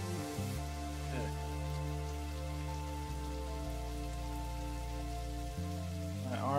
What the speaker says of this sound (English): Just try and enjoy the rain.